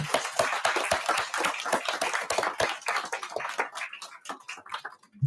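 An audience at a town council meeting applauds, with dense, steady clapping from many hands that thins out toward the end. It sounds close to moderately near, in a room, with no talk over it.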